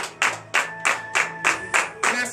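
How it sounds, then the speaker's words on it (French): A congregation at a morning prayer service in Benin claps in a steady, loud rhythm, about eight sharp claps in quick succession over a sustained musical tone. "Donnez l'acclamation à notre Seigneur"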